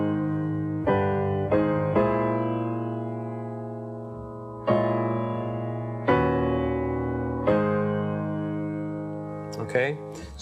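A piano plays the first four bars of a tune in a plain, straight rhythm, with a few sustained chords struck at spaced intervals and left ringing. It sounds fairly dry, close and alone, with a brief flurry of notes at the end.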